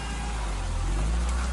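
Rain falls steadily in a dense, even hiss, loud and close throughout, with a low rumble underneath and no voices.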